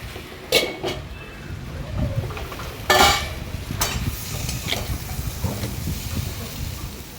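Desiccated coconut and sugar are stirred in a pan, with soft scraping and a low sizzle, punctuated by a few sharp clanks of the spoon against the metal.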